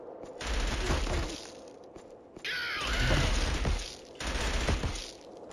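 Volleys of automatic gunfire crack in the Killzone shooter on PS3, several dense bursts separated by short pauses, with debris-like crashes between them.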